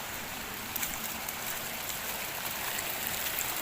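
Water spills over from an overflowing irrigation channel with a steady, hissing rush and a few splashy spikes.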